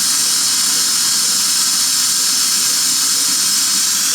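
A Hoover steam cleaner, just repaired, releases a continuous loud, even hiss of steam for several seconds, close up with no voices.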